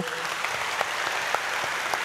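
Loud, dense applause from a large group of first-grade students in a church fills the whole stretch, a continuous wash of clapping with a few sharper claps standing out.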